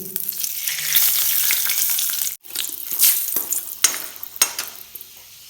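Curry sizzles and fries in a pan with a bay leaf, a steady loud hiss that briefly breaks off, followed by stirring scrapes and clinks.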